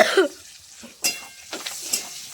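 Chopped onion fries in oil with nigella seeds and slit green chillies, heard as a quiet sizzle broken by a few sharp scraping stirs and clatters of a spatula in the pan.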